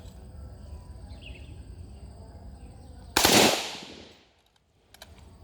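A Pindad SS1 V1 assault rifle set to full auto fires a very short two-round burst, a single sharp blast that rings out and decays against a quiet outdoor background of faint insects.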